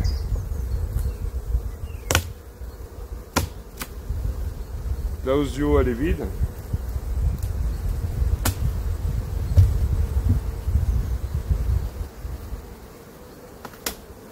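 Honeybees buzz around an opened hive on a cold spring day as honey supers are removed, a low continuous drone with passing insects flying close by, while someone speaks briefly in the middle.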